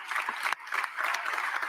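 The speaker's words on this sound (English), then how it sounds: "Give Howie a round of applause." A large outdoor crowd at the Philadelphia Eagles Super Bowl parade gives a brief burst of applause and cheering, a broad, fairly distant wash of sound that lasts under two seconds.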